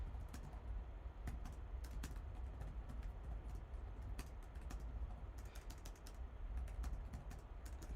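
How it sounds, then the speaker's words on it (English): Typing on the keyboard of an HP Omen Transcend 14 gaming laptop, a steady run of quick, clicky keystrokes with some sharper taps, close but fairly quiet, no talking. "we'll do some typing, just to... check the keyboard. Oh, it's very nice. I really like the keyboard. It's very clicky."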